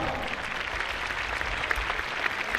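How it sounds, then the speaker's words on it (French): Crowd in the Roman arena at Arles applauding during the gardians' festival, a steady, dense clatter of many hands clapping at an even level, fairly distant and open-sounding. "nous vous accueillons très volontiers sous les applaudissements du peuple d'Arles"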